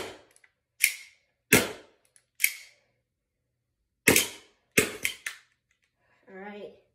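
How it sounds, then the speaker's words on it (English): Several sharp, loud gunshot-like pops from a Knightshade Lancer Tactical airsoft gun running on green gas, fired singly and in quick pairs with gaps between, followed by a brief voice. "so I filled the gun up with green gas, and I've test shot in it"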